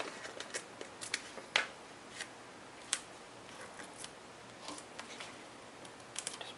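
Backing paper peels off small dimensional adhesive foam pieces for a card, giving faint, quick crinkly rips and ticks scattered irregularly over a quiet background.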